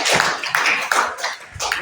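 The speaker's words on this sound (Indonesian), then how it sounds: "tepuk tangan" A handful of hands clapping in a classroom session, a few separate bursts of claps with short gaps, moderately loud and close, with faint voices underneath.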